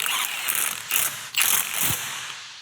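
A ratchet wrench tightens chrome lug nuts on a Cobra Mustang's chrome wheels, giving loud, close, rapid clicking in several short strokes with brief pauses between them.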